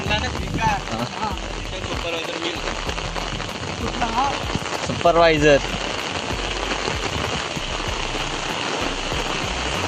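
Heavy rain falls in a Konkan village as a dense, steady hiss of drops on surfaces, with flowing water beneath and someone speaking over it.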